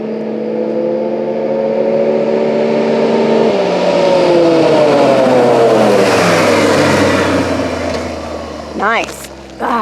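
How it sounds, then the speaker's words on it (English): A Can-Am Maverick X3 engine revs loudly and climbs through the gears, pitch rising and dropping with each shift, close and dominant, with a brief voice near the end. "that car sounds like it's fast, because it is"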